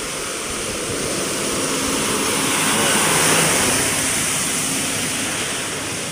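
Strong typhoon rain and wind lashing Quezon Province, a loud, continuous broadband roar with no breaks, steady throughout and swelling slightly in the middle.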